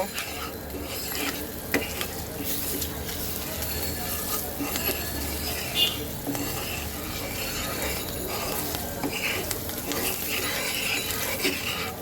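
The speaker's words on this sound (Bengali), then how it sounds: "আমি তেলের মধ্যে মশলাটাকে ভেজে নেব" Spice masala frying in oil for a hilsa fish curry with kalo jeera, a steady close sizzle with stirring and scraping of a spoon in the pan running throughout.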